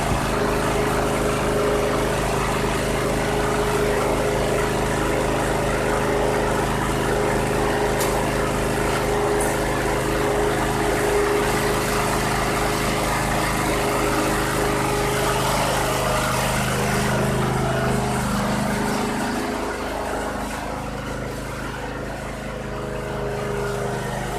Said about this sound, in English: 848 hours and that engine sounds solid.